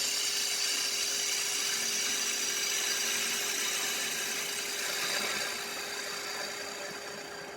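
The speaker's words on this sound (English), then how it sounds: "I make a quick facing cut here just to get the blank fully balanced" A walnut bowl blank spinning on a woodturning lathe takes a facing cut, giving a continuous, loud, rough scraping hiss over a steady motor hum, easing slightly toward the end.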